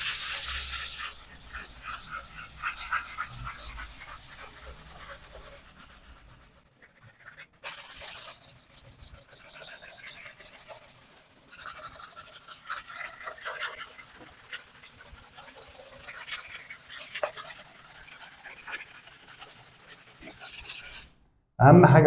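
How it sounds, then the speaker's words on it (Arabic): Sandpaper, 180 grit, scrapes steadily across a freshly filled plastered wall, a close, continuous abrasive rasp in repeated strokes that pauses briefly midway, then resumes and runs to the end. "وبعد كده بنبدأ نصنفر زي ما حضراتكم هتشوفوا صنفرة 180."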